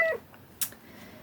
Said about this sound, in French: C'est bon, t'as le droit de miauler, c'est l'heure.